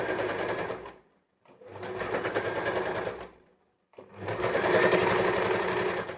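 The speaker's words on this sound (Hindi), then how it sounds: "और अब हम इसको स्टिच लगाएंगे" An electric sewing machine stitching the lining of a boat neck garment runs in three steady bursts separated by short pauses, loud and close with no talking.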